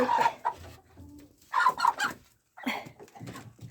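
Chickens, including a chick, cluck and squawk nearby in short bursts separated by brief pauses, on a farmyard in winter.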